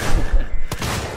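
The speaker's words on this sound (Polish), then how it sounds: "po prostu strzał z broni." Gunfire in the Alien: Isolation video game comes as a short, sharp burst of shots over a noisy, rumbling background.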